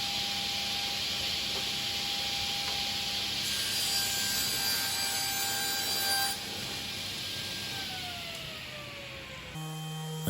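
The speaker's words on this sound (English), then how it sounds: "I gave them a quick sand along the joints" Wooden cupboard panels for hidden shoe storage are sanded along their joints with a steady, continuous abrasive rasp that runs close and alone for the whole stretch, with no talking.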